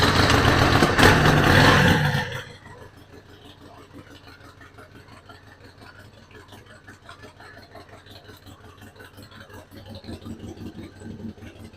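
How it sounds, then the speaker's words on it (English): A motorcycle engine kicks into life with a loud burst of starting noise in the first couple of seconds, then settles into a quieter, steady idle with a faint rhythmic chug. "So I'll just start the bike."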